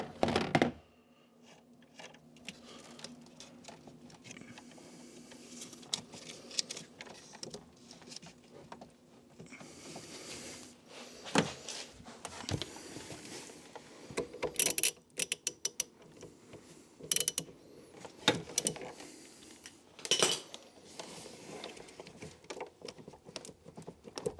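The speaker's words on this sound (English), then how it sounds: "lift the boot liner, negative battery terminal, loosen it off" A wrench works loose the negative battery terminal on a car, reached by lifting the boot liner. Irregular metallic clicks, ratchet turns and clunks come up close, with quiet gaps between bursts and no talking.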